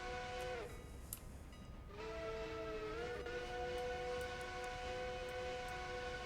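A train whistle blows in sustained steady harmonic blasts that shift pitch briefly and carry on loud and near for several seconds over a rumbling rail-running background.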